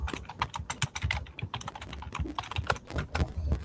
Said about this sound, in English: I hear your keyboard going bananas.